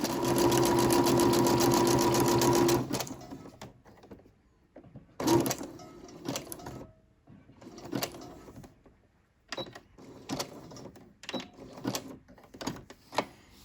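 A sewing machine stitches paper junk journal tags, whirring in a steady continuous run for a few seconds and then in short, stop-start bursts of stitching, heard up close with no talking.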